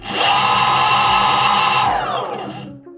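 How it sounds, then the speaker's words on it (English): A high electric motor whine from a Boosted Mini X electric skateboard in beginner mode runs steadily and close, then winds down and fades out near the end, with no voices. "So the board is currently set at the beginner level, so this is how it sounds and goes."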